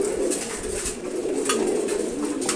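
Expensive racing pigeon of foreign bloodline cooing at a pigeon farm, soft repeated throaty coos under a steady hum of loft noise and other birds.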